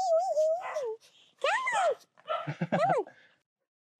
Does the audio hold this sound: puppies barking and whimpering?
yes